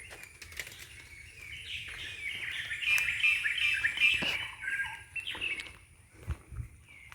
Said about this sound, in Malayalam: വനത്തിനുള്ളിലെ നാച്ചുറൽ ശബ്ദമാണ് നിങ്ങൾ കേട്ടുകൊണ്ടിരിക്കുന്നത്